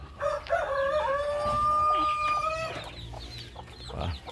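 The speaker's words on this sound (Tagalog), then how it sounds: "Ating Shamo Stag. Ating mga ligaw na native" Shamo stag and native chicks in a backyard flock: a rooster crows clearly nearby, with clucking and soft cheeping chick calls around it.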